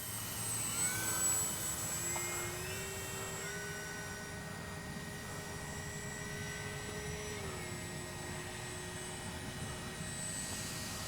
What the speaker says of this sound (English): Great flying plane.